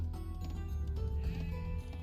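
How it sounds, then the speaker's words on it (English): A sheep bleats in Age of Empires 2: Definitive Edition during a Kyoto map, a single wavering, moderately loud bleat over a steady low game backdrop. "I have some sheep, actually."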